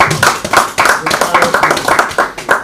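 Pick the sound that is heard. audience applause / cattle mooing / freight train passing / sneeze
audience applause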